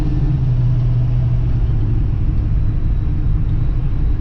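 A 1968 GT350 Mustang engine with a quiet Flowmaster exhaust and two long resonators idles in a steady, low rumble, close and continuous with no talk.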